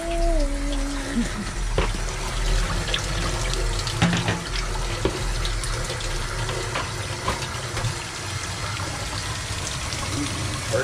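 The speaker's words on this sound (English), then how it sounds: "Got it inside now with the warm water." Tap water runs steadily indoors while a tie-dyed shirt is rinsed, a loud continuous splashing rush lasting throughout, with a brief tonal whine near the start and occasional clatter; voices are heard faintly under the water.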